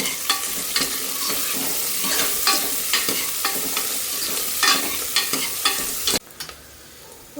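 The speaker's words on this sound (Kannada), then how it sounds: "ಇವಾಗ ಈರುಳ್ಳಿ ಸ್ವಲ್ಪ ಫ್ರೈ ಆಗಿದ್ದಲ್ವ" Onions frying in a pan for a tomato masala, with repeated scraping stirs over a steady sizzle, close and fairly loud, cutting off abruptly near the end.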